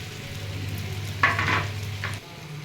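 Tomato pieces drop onto frying eggplant in a hot pan, giving a soft steady sizzle with a couple of brief, brighter crackling bursts as they land.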